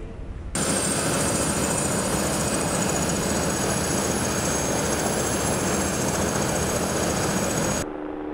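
A loud, steady drone of an experimental BK helicopter with whirring rotor noise holds constant for several seconds, then cuts off abruptly.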